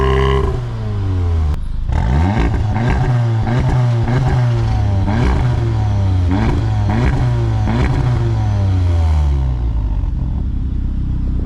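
Audi S3 8V exhaust revving loudly and alone, a series of sharp rising throttle blips with crackles between them, each rev climbing and falling in quick succession over a steady idle.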